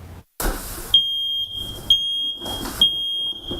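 A smoke detector sounds a loud, piercing electronic alarm in repeated bursts of about a second each, set up as part of a Red Cross home fire safety campaign.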